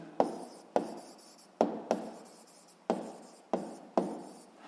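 Pen strokes on paper as a physics exercise is worked out by hand: seven short, sharp scratchy bursts at uneven intervals, close and fairly quiet, with no talking.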